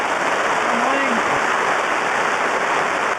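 Steady, heavy rain hisses continuously on a surface nearby, loud and unbroken for several seconds.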